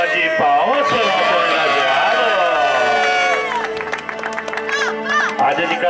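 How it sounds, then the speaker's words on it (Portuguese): A crowd at a birthday surprise in Itaquera claps and cheers loudly alongside blaring music, with shouts rising over the clapping throughout. "Uma salva de palmas para o nosso"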